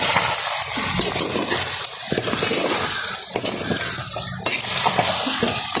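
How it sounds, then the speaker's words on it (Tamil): Food being stirred in a pan with salt added, a spoon scraping and clattering in irregular strokes over a steady close sizzle, with no talk. "வடிவாக கிண்டி விடணும்."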